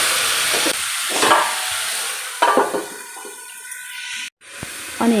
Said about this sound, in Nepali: तिते भेन्टालाई पनि एकछिन भुट्छु